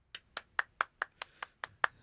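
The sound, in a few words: hand clap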